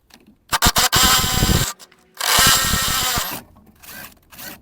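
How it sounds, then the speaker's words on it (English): A ratchet with a long 12 mm socket and extension works loose rusty, corroded rear shock absorber bolts on a Mazda 3, giving two long, loud, close whirring bursts separated by brief pauses, with a fainter burst at the end. "I'm using long 12 mil socket and extension."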